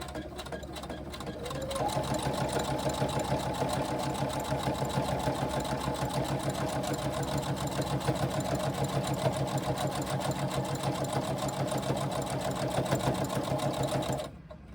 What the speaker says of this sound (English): we are going to sew the seam down the other edge